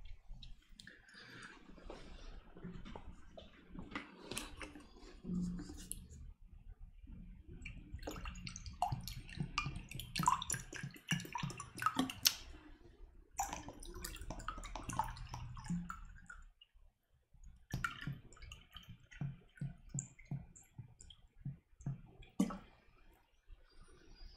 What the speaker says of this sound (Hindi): तब तक मैं पानी डाल लेता हूँ